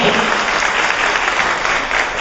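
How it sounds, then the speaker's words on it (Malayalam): An audience at a welcome gathering applauds a chief guest with dense, continuous clapping, loud and close, that runs the full length without a break. "വലിയൊരു കയ്യടി ആദ്യം തന്നെ."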